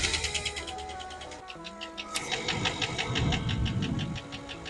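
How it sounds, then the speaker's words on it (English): An SUV engine with a stuck lifter idles with a rapid, steady metallic ticking over a low running rumble, quiet and heard from close by without any talking. "that sound you were hearing was a stuck lifter"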